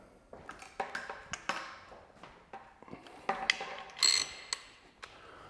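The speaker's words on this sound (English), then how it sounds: "Mount the bike into the stand securely." A bicycle is mounted and clamped into a repair stand with a series of close metallic clicks, taps and ratcheting clunks at an irregular pace, ending in a brighter clank near the end.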